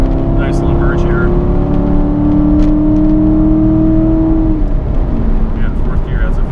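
A car in fourth gear cruises with a steady engine whir and a sustained tone that rises slightly then falls away, loud and close, under faint cabin noise.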